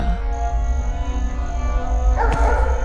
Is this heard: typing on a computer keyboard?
no